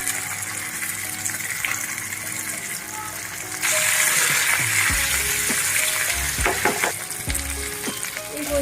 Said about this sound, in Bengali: এগুলো একটু বেশ ভাজা ভাজা হয়ে যাবে।